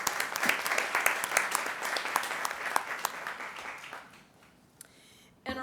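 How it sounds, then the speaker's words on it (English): Audience at a school board of education meeting claps in a steady round of applause that fades out gradually, leaving near silence before a brief new sound at the end. "So we want to recognize them with a round of applause."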